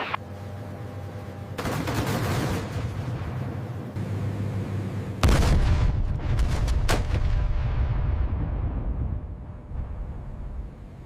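Heavy cannon fire from an AC-130J gunship booms in dense, rumbling blasts that roll on continuously, loud and sustained, with no voices heard.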